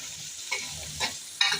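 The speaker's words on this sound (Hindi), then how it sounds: "इसको भी हम अच्छे से फ्राई कर लेते हैं तकरीबन 4 से 5 मिनट।" Tomato and green chillies fry in a pan with a faint, low sizzle, and three short stirring scrapes break in near the mic.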